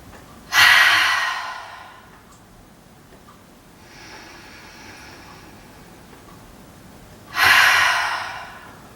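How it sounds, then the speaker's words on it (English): Two loud, close breaths during a yoga session, each a sharp deep nasal inhale followed by a breathy exhale through the mouth, with a softer quieter breath between them and stillness around them. "taking a nice big inhale in through the nose and a big exhale out through the mouth"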